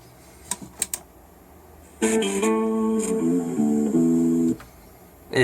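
A few sharp, quick clicks come from the blue-switch keys of a Corsair K70 mechanical keyboard. Music then starts playing, with a final click at the end.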